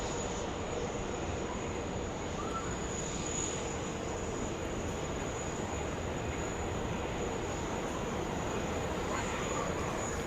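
An airplane at Brisbane Airport, Queensland, Australia, gives a steady, broad engine roar with a high whine running throughout, moderately distant and even in level from start to finish.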